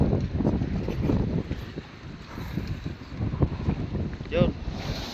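Strong wind at sea roars and buffets steadily against the microphone aboard a boat, with broadband rumble and gusts throughout; no speech over it.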